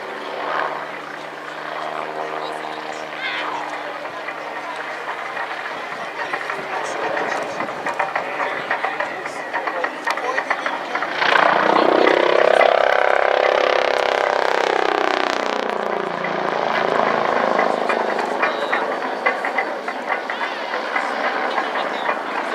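A Bo 105 helicopter flies an airshow display at RAF Cosford, its rotor thrum swelling loud as it passes close and then easing off, under a faint background announcer voice.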